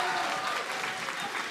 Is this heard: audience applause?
yes